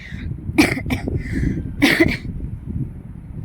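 Two sharp, explosive bursts, about a second apart, from a person close by, like coughs or sneezes over a low rumble of wind or outdoor background.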